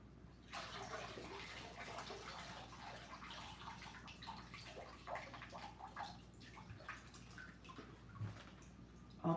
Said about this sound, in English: I'm gonna soak it in a fertilizer.